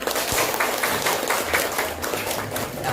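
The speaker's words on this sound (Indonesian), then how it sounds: "Tepuk tangan semua." Students in a school classroom applauding together during an Islamic studies lesson: a short burst of quick, uneven clapping from a small group, fairly close and steady with a few sharper claps.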